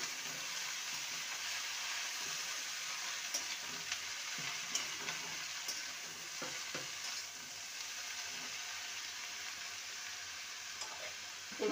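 Nate greens (nοte shak) sizzle and fry in a pan while being stirred, a steady crackling hiss with soft scraping stirs throughout, close and alone with no talking.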